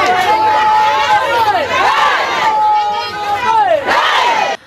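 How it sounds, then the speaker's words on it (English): A crowd of market traders chants war songs in a loud, dense mass of voices, with rising and falling shouted calls that repeat in waves, close and continuous. "control the crowd who were chanting war songs"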